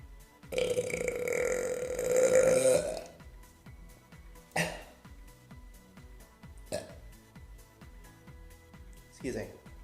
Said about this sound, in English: So I'm gonna pause the video until I feel like there's a burp coming.